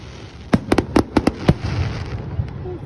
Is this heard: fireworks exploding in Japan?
yes